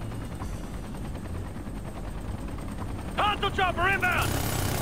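Steady rumble of helicopter rotors with rapid bursts of gunfire in Ghost Recon, helicopter against helicopter, loud and continuous, with a sharper burst near the end.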